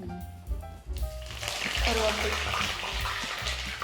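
Curry leaves and dried red chillies crackle and sizzle in hot oil with mustard seeds for a mutton chops pepper gravy, a steady close frying hiss after a brief clatter, with a voice speaking over it.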